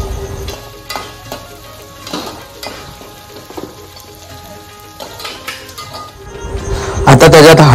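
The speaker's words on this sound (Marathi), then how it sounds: "आता त्याच्यात ती अद्रक, लसूण आणि मिरचीची केलेली पेस्ट टाकलेली आहे, ती पण कांद्यासोबत थोडीशी भाजून घ्यायची" Onion frying in a pan with ginger, garlic and green chili paste added, a steady close sizzle with stirring scrapes throughout that swells louder and brighter near the end.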